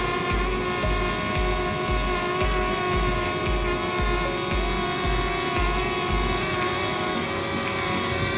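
A DJI Mavic Air drone flies a waypoint route, giving a steady, loud, high-pitched propeller whine with layered harmonic tones that hold constant throughout, over a faint, regular low thumping.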